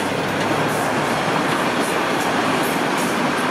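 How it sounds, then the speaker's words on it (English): A northbound Toronto subway train rumbles past, a steady loud roar of wheels and motor with faint rhythmic clatter, filling the space throughout. "Oh, I hear a train."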